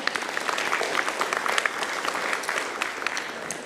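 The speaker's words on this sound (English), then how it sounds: "I always give them a round of applause, actually, yeah." A congregation at a Sunday church service applauds, a full wash of clapping from many people that stays even and close from start to end.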